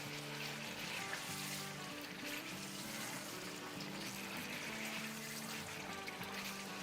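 Chicken pieces coated in yogurt and spices fry over high heat in a pan, giving a steady, even sizzle that holds at a constant level with no talking.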